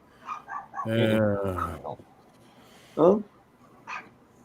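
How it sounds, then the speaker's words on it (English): Chihuahuas yap and whine in a few short bursts, a longer high-pitched bark followed by quick yips, fairly close with quiet gaps between. "I hear Chihuahuas barking"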